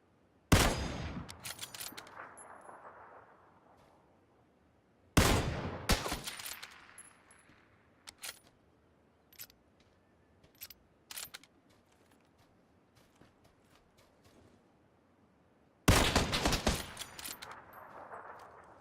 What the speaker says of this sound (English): That guy at the tree shot this guy down here.